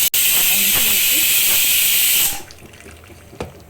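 Hot water poured into a hot pan of fried garlic and tamarind bursts into a loud, close, steady sizzling hiss of steam for about two seconds, then drops away to faint bubbling and small clatters.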